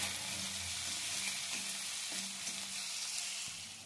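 Ginger paste fries in a pan with a steady close hiss and sizzle, a few soft stirring knocks heard through it, and no one talking.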